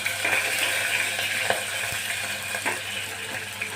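Onions sautéing in a pan for moong dal khichdi give a steady, close sizzle with faint stirring scrapes and soft clicks throughout, no voices.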